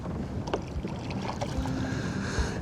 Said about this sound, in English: it is getting very windy